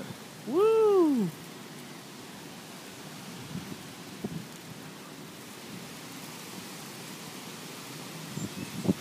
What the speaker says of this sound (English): Alright, it's starting to rain a little bit.